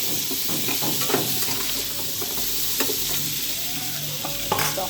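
Ash gourd fries in a hot pan, a loud continuous sizzle with scraping stirs and a few sharp spatters over the full stretch.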